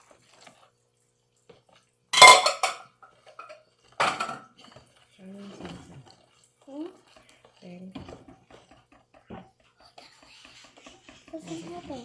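Water being stirred into a craft mixture in a bowl, heard as clinking scrapes against the bowl and soft wet mixing sounds, with a couple of louder clatters early on and whispered talking throughout.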